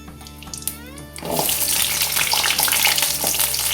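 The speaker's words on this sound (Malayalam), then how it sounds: "തേങ്ങ വറക്കാനുള്ള ഒരു 2 ടേബിൾ സ്പൂൺ എണ്ണ ചൂടാവുമ്പോൾ അതിലേക്ക് വെളുത്തുള്ളി ഇടുന്നു, കായം ഇടുന്നു, ചെറിയ ഉള്ളി" Garlic, asafoetida and small shallots drop into two tablespoons of hot oil for sambar and burst into loud, close sizzling that keeps going steadily after a brief quieter lead-in.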